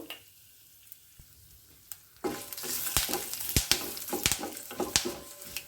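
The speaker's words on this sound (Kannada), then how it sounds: "ಒಗ್ಗರಣೆ ಆಲ್ಮೋಸ್ಟ್ ಆಗಿಬಿಡ್ತು ನೋಡಿ" Tempering spices, turmeric, asafoetida and chilli powder, in hot oil: quiet at first, then a sudden loud sizzle that keeps crackling while a utensil stirs and scrapes the pan.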